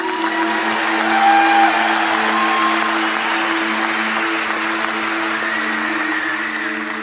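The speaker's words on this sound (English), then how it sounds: "Let's give them a big round of applause." A graduation ceremony audience gives loud, sustained applause that stays steady for several seconds with no speech over it.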